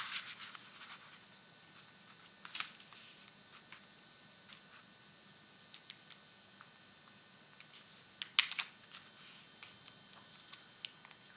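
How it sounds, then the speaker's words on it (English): Paper is folded and creased for an origami polar bear, with quiet scattered scrapes and sharp crisp crackles, two louder creasing bursts standing out over near silence. "Again, give it a good crease."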